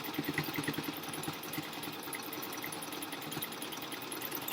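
A domestic sewing machine runs a slow decorative stitch, its motor humming steadily with a fast, even mechanical tapping throughout, close and alone.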